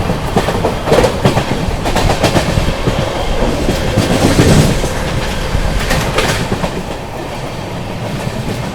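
The Tamil Nadu Superfast Express, 12621, runs at high speed through Ramagundam station, its wheels clattering over rail joints and points in a steady loud rumble heard from inside the moving coach.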